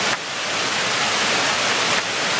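A waterfall in rugged high-country scrub roars as a steady, dense wash of white noise, close and constant throughout with no voices.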